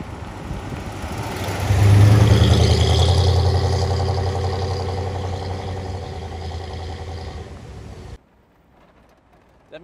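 A 1972 Oldsmobile 442 convertible V8 rumbles through a test drive, engine swelling loudly and holding a deep steady drone before cutting off abruptly near the end.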